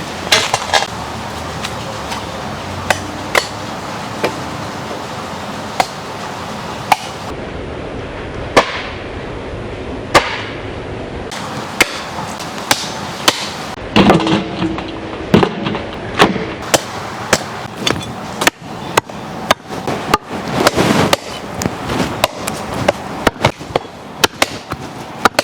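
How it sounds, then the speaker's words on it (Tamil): Mutton being chopped into small pieces, cooked dhaba style in Punjabi mutton curry, sharp repeated cleaver chops in an irregular rhythm, loud and close, alone without talk. "சின்ன சின்ன பீஸாக கட் பண்ணி எடுத்துக்கலாம்."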